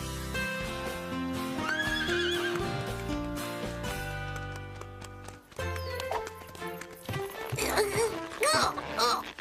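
A cartoon horse whinnies loudly over galloping hoofbeats and a lively animated-series music score, with the neigh sweeping up and down near the start and again near the end.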